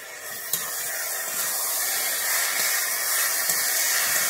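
Ground spice paste sizzles and hisses in a hot pan with pui shaak and ridge gourd, a steady broad frying hiss with a couple of faint clinks of stirring.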